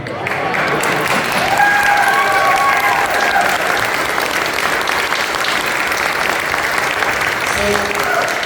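An audience applauding the performers at a summer concert, with sustained, dense clapping from a large crowd that stays loud and even throughout, plus a few faint voices mixed in.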